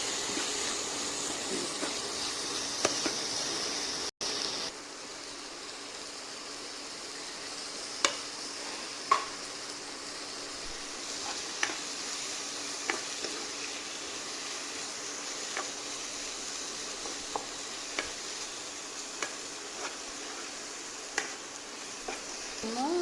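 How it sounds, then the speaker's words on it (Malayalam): Chicken masala for a canned tuna masala sautés and is stirred in a pan, giving a faint, steady sizzling hiss with scattered sharp ticks of the spoon scraping the pan. "മസാലയുടെ ഒരു പച്ചമണം മാറി വരുന്നത് വരെ വഴറ്റും."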